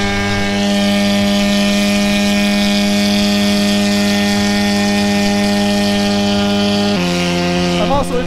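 A cheap AliExpress paramotor engine drones steadily at about 5,000 RPM in powered paragliding flight, loud and close throughout with strong harmonic tones, shifting pitch slightly near the end.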